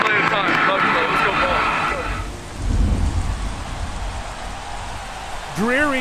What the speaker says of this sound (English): It's been a steady downpour of rain.